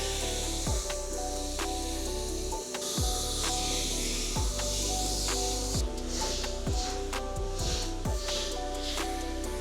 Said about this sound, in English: So now we're going to be rinsing the vehicle.